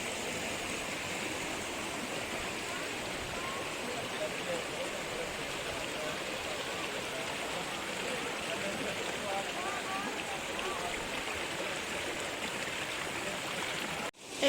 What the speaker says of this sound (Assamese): এইটো এটা সৰু জুৰি পাহাৰৰ পৰা নামি আহিছে। পানীখিনি ইমান নিৰ্মল, ঝৰঝৰ শব্দ